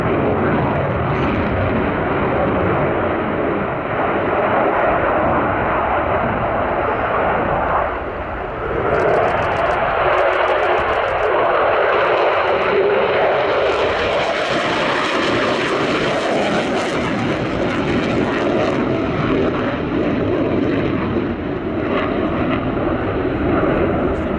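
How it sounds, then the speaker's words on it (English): A Su-27 fighter jet roars loud and continuous, a broad steady engine rumble that holds throughout with slight swells, as if passing at an airshow. "This Su-27 one of about 35 still operational"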